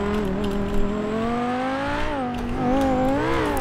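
A fast car in GTA 5 roars with a steady, rising engine drone that climbs and dips in pitch as it speeds along, loud and close with no talk over it.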